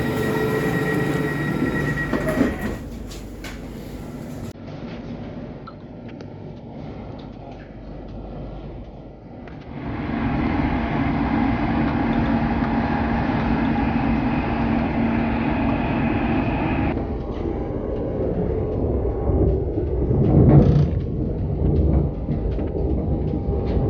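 An Elizabeth line train in London runs eastbound toward Abbey Wood, giving a steady loud rumble of wheels and motors with squealing and clickety-clack from the rails and a brief drop in the noise partway through.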